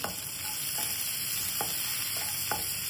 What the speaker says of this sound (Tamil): இப்போவே கொஞ்சம் சால்ட் போட்டுக்கலாம் வதங்கிறதுக்கு.